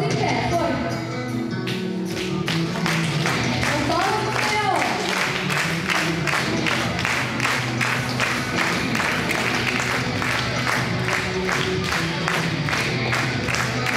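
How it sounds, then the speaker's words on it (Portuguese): Children at a kids' church service clap along to worship songs, a rhythmic run of sharp, evenly spaced claps over singing and crowd noise. "Podemos acompanhar os louvores com palmas."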